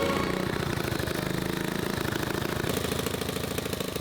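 A homemade off-road buggy's engine runs steadily, a rapid rough putter close by and fairly loud throughout, with no talk over it.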